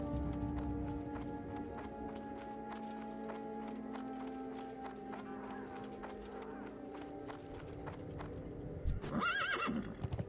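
A Death Charger horse mount in World of Warcraft, with rapid clip-clopping hooves throughout under game ambience and a loud neigh near the end.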